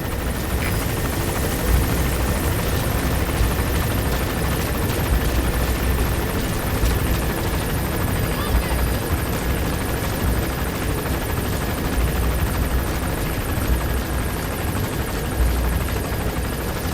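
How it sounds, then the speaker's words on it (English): A helicopter in Metal Gear Solid 5: The Phantom Pain, its steady rotor drone loud and continuous throughout as the chopper arrives, with no voices over it. "The chopper will be arriving any minute."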